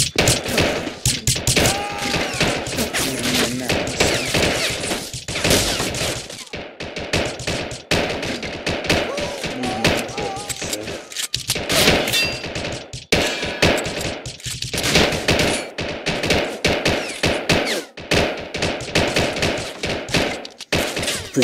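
Covering gunfire in a video game, dense automatic bursts and rapid shots rattling almost nonstop, loud and close, with brief pauses between volleys and no speech.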